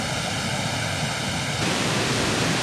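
Drum mix of kick, snare and tom with delay added, producing a hollow, phasey comb-filtered wash that runs steadily and then shifts in tone partway through, loud and continuous with no voices.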